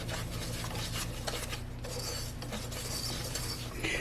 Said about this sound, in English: You want to use a silicone whisk, by the way, so you don't scratch your saucepan up.